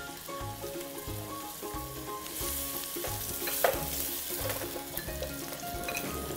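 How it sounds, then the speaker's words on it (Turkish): Steady sizzling of onions frying in hot oil, with occasional stirring clatter, all under a looping music track. "Şimdi yağımız ısındıktan sonra içerisine soğanlarımızı ilave ediyoruz."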